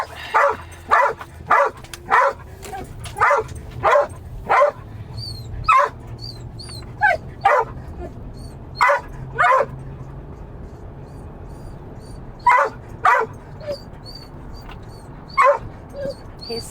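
Dogs bark repeatedly in short bursts and yips along a busy town street, moderately close, with irregular gaps and faint background bustle.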